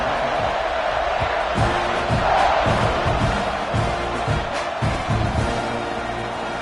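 A stadium crowd roars and cheers ahead of a football kickoff, a loud, sustained wash of voices with swells and shouts throughout.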